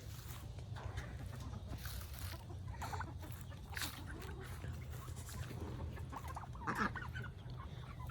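Chickens cluck and murmur continuously over a steady low hum, with a brief louder squawk near the end.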